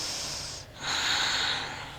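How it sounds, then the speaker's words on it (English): Slow, audible breath during a yoga class, near and unhurried: a long airy exhale that fades briefly and is followed by a fuller inhale, with no talking. "One more breath here."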